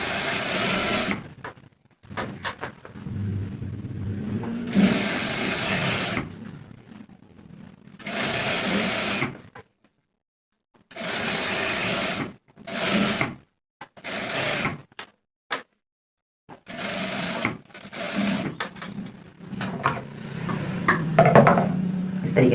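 A sewing machine stitches a trouser waistband in repeated bursts of a few seconds each, stopping and starting, while a person talks in the gaps and over the running machine.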